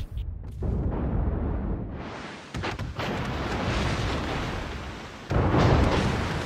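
Heavy naval gunfire from a warship's main battery in World of Warships, a loud, sustained rumble of booming blasts with a fresh burst near the end, no voices.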